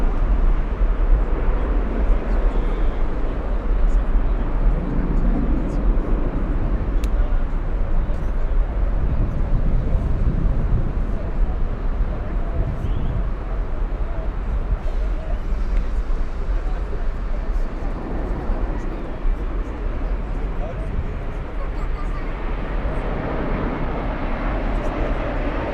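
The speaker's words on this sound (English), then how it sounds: "this is Condor Flight 2087 in from Los Angeles. This is the second A330 that's joined Condor." A Condor Airbus A330 arriving at Frankfurt from Los Angeles makes a continuous, moderately loud jet rumble that swells and fades gently, with distant voices in the background.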